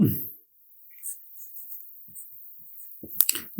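Short, faint squeaky strokes of writing on a board during a Bengali grammar lesson come in scattered dabs over near silence, with brief bits of voice at the start and end.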